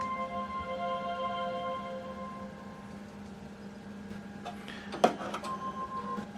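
A Brother DCP-L3560CDW colour laser printer hums steadily with faint mechanical whirs, then a sharp click and brief rattle as it powers on, settling back into a low drone.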